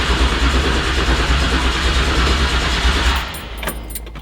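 A 572ci big block engine in a K5 on a dyno runs as a loud, steady roar for about three seconds, then cuts out and gives way to sputtering, clanking bursts.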